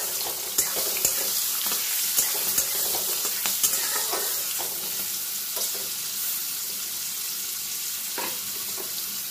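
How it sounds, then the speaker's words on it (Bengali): Chickpeas, banana stem and papaya stirred and frying in oil in a pan, a steady close sizzle running throughout with repeated scraping stir strokes and occasional clinks, no talking. "ছোলাটা তেলের মধ্যে আমি একটু নাড়াচাড়া করে নিয়ে এর মধ্যে এবার থোর আর পেঁপেটা অ্যাড করে দেব।"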